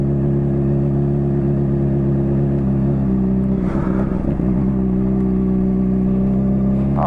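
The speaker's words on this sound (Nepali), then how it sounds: "अफ रोड पनि चलाउनु पाइ अरे बाइकले" Off-road motorcycles run near a golf course: a loud, close, steady engine drone with a brief rising rev and some clatter midway, no talk.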